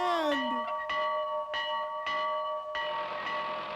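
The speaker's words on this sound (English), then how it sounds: "Go ahead, Betty. You ring it. Ah, yes, the bell signals a nuclear attack in these parts." A farm bell on a dairy farm rings in a steady series of about six clear, resonant strokes, each sustaining a bright metallic tone that overlaps the next.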